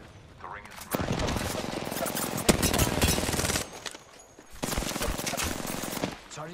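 Automatic weapon fire in the battle royale game Apex Legends, long rattling bursts close by that pause briefly near the middle and resume, with a voice speaking underneath.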